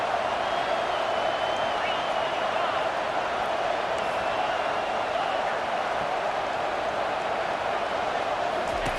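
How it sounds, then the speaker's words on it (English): A home crowd roars in a College Football 25 game as the defense faces third down, producing a steady, dense wash of stadium cheering that holds for several seconds without letting up. "Here comes this home crowd as the defense tries to get off the field on third down."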